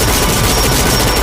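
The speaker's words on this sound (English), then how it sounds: "the spray of gunfire actually hitting the right target" Machine gun fire from the Family Guy cartoon, a loud rapid spray of shots packed densely together in one brief unbroken burst.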